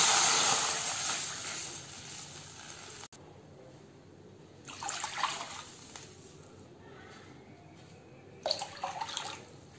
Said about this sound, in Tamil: இப்போ அதே கடாயில் நம்ம எந்த கப் அளவுக்கு ரவை எடுத்தோமோ அதே கப் அளவுக்கு 3 கப் தண்ணி சேர்த்துக்கணும்